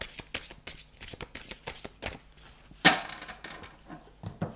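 Zen tarot cards being shuffled by hand, with a run of quick, crisp riffles and soft slaps up close and one sharper clack midway, without voices.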